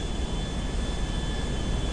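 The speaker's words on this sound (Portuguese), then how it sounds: "Cara, tá barulhento esse avião, hein, mano." A large jet airliner's engines roar steadily in GTA 5, a loud continuous broadband whine and rumble with a faint high tone, with no talking.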